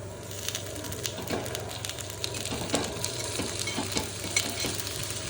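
Kambu paniyaram sizzle softly in a pan while they are turned over, giving a low, continuous frying hiss with light, scattered taps and scrapes from the utensil.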